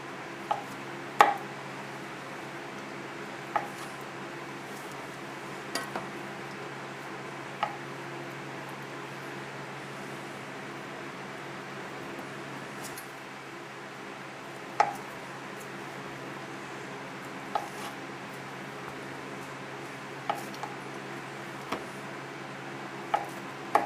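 Knife chopping 4-ounce cubes of American cheese food in a kitchen, heard as sparse, faint, separate taps on a board at irregular intervals over a quiet steady background hum.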